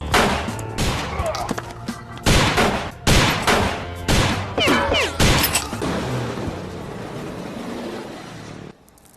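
Bursts of heavy gunfire, loud and close, firing in repeated volleys with booming impacts, then trailing off into a quieter rumble before cutting out.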